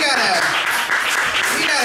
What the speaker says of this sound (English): give yourself a round of applause for coming around